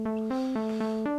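A synth pluck patch designed in Serum 2 for an ambient track, repeating short bright notes in a steady rhythm with alternating pitches, smooth and sustained without gaps.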